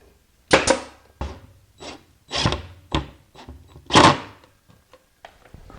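Glued wood piece rubbed back and forth into place on a router table cabinet, several close, rasping strokes in an uneven rhythm with short pauses between them.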